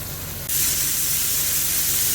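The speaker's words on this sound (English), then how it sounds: "Look at those sizzle." Seasoned meat patties hit a hot skillet in a sudden burst of loud, steady hissing sizzle, continuing evenly with no talking.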